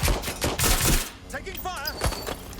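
Gunfire in the Watch Dogs 2 video game: a burst of loud, rapid shots over the first second, followed by quieter game noise and a voice.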